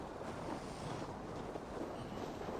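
Blustery wind gusting before a storm in the game Assassin's Creed Valhalla, a steady loud broadband rush with a faint watery wash beneath it, with no voices.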